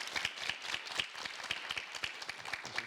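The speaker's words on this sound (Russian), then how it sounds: "Аплодисменты нашей гости." An audience applauds a guest on a talk show, a brief burst of moderately faint, even clapping with no voices over it.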